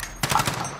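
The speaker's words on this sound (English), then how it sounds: "How is this dude shooting me?" A brief, quick burst of automatic gunfire in Call of Duty: Modern Warfare, a few rapid shots lasting under a second against a quiet background.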